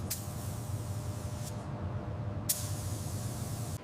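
A spray gun lays primer onto a burnt Lamborghini Gallardo under restoration, giving a steady, close, continuous hiss through the whole stretch, with a couple of brief sharper bursts and no talking.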